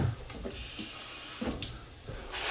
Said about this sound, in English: I'm just gonna put a tiny splash of water in there.